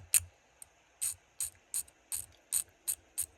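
Small Allen head screws are driven into a car body, heard as a close run of eight or nine quick ratcheting clicks in an even rhythm with short gaps between.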